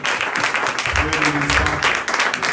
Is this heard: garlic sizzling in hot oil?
no